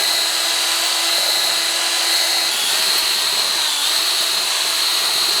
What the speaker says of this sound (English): I'm going to have to drill them out real quick.